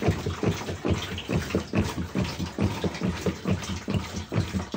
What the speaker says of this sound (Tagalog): Tapos yan, lumalabas yung flash. Galing dito.